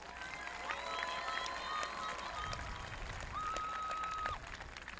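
An audience at a school ceremony applauding, a soft continuous patter of clapping heard from a distance in a large room, with faint whistle-like tones over it.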